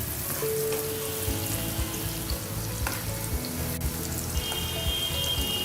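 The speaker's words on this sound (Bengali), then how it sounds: "পেঁয়াজটাকে আমি হালকা করে ভেজে নিচ্ছি।" Onions frying lightly in a pan for a home-style chicken roast, a continuous close sizzle with faint occasional stirring clicks and a thin tonal hum throughout.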